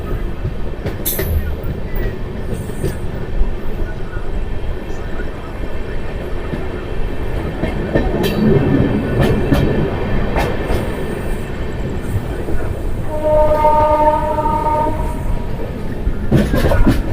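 The Lalkuan–Anand Vihar intercity express pulling out of a station at night, close and loud, with a continuous rumble of wheels and rail clatter, a few sharp clanks, and a tonal screech of the wheels rising near the end.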